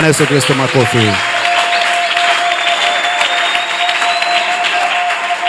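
A church congregation breaks into loud, sustained applause, many hands clapping at once, while a voice briefly speaks over the start and a high sustained tone runs through the clapping.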